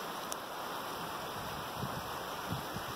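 A creek flows steadily outdoors, its water rushing in an even, continuous wash from start to finish, with no voices.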